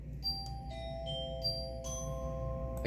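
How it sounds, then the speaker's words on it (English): The glockenspiel stop of a Hauptwerk virtual organ strikes a handful of clear, bell-like metallic notes in sequence, each ringing and decaying softly over quiet background hum. "So, we have a glockenspiel."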